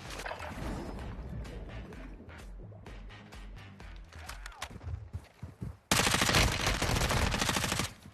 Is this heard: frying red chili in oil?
no